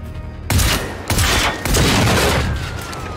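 Gunfire in the video game Generation Zero: three sharp, loud bursts about half a second apart, each with a ringing tail, close and dominant.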